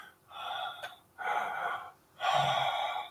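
A voice imitates slow, light breathing heard while asleep, in three drawn-out airy breaths with short pauses between them, close and fairly soft, the last one slightly stronger.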